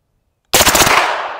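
A gun fired into a hillside at an outdoor shooting range: after a moment of silence, a sudden loud close burst of rapid shots, ringing out and decaying at the end.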